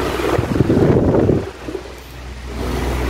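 A Maspion EX-174 S stand fan runs at speed 3 with the microphone held behind its motor, producing a loud breathy rush of airflow that buffets the mic, then drops to a softer, steadier whoosh halfway through.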